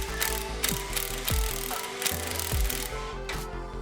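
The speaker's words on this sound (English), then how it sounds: "I can just barely get a socket on there and pull this direction" A hand socket ratchet clicks in short repeated bursts while loosening the Pitman arm on a Jeep JL's steering in a garage, the pawl ticking close and steady between pauses.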